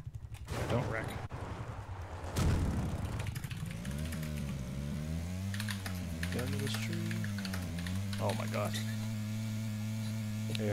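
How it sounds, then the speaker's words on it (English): Computer keyboard typing clatters near the start during a PUBG match, then gives way to a steady electrical hum with faint clicks and voices underneath. "Actually typing something, or are you just"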